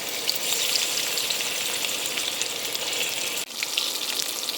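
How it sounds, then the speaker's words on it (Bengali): Hilsa fish pieces fry lightly in hot oil for a mustard hilsa recipe, giving a steady, close crackling sizzle throughout with one brief dip in intensity. "তেলটা গরম হয়ে গেছে, এতে এই মাছগুলো দিয়ে দেব।"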